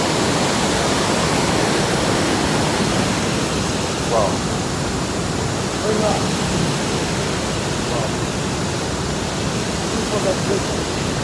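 Fourteen Falls in Kenya, less than two hours from Nairobi, its water pouring in a loud, steady broadband roar with a brief exclamation from a visitor partway through.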